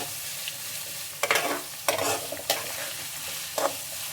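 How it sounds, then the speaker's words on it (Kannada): Onions frying in oil in a pan for a tamarind rice dish, with a steady low sizzle broken by a few sharp scraping stirs of a spatula, close and moderately loud. "ಈರುಳ್ಳಿನ ಹಾಕ್ಕೋಬೇಕಾಗುತ್ತೆ. ಚೆನ್ನಾಗಿ ಗೋಲ್ಡನ್ ಬ್ರೌನ್ ಬರೋವರೆಗೂ ಫ್ರೈ ಮಾಡ್ಕೊಳ್ಳಿ."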